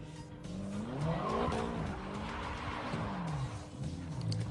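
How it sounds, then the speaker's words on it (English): A BMW spins donuts on a street, tires squealing in long wavering skids over engine noise, sustained and moderately close. "He's doing donuts in the street."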